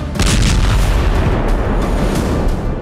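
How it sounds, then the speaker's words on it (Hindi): M109 howitzer artillery firing, a loud heavy boom followed by a long low rumbling roll that fills the clip, close and powerful, with no voices. "M109 होवित्जर से भीषण गोलीबारी की गई।"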